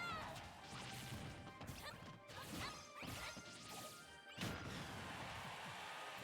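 Attack hits in Super Smash Bros, Samus and Greninja against Ness, come as several sharp smacks and crashes with whooshing swipes over a continuous game soundtrack and crowd bed.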